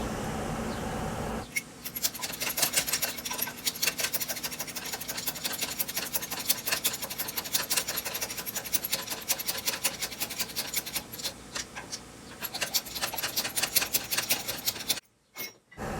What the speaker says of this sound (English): You can break the bead with the mason's chisel without using the press.